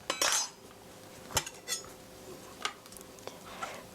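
A knife cuts into an onion on a board in a kitchen, with a few sharp separate taps and clicks spaced about a second apart, close up and fairly quiet.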